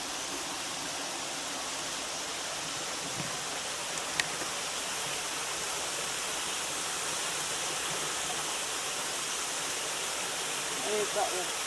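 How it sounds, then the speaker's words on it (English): Water flows continuously at Elsecar Reservoir in Barnsley, a broad, even rushing hiss like a weir or waterfall, loud and unbroken for the whole stretch. "if you listen to the sound of the water, it also sounds like there's voices coming from it."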